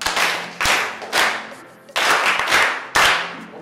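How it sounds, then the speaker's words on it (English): Several separate bursts of clapping ring out in a classroom, sharp group claps that start abruptly and fade between rounds, fairly close and without talk. "Yes, clap for Peter."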